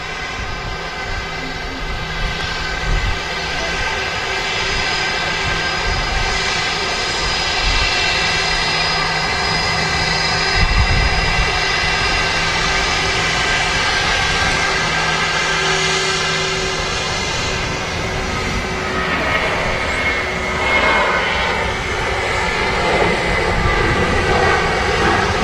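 Airliner jet engines roar at Manchester Airport, a sustained loud whine and rumble with steady tonal hum that shifts pitch as the aircraft moves, heard at a distance without voices.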